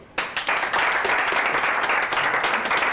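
A burst of applause from a crowd, steady and fairly loud throughout, starting abruptly and holding without pause.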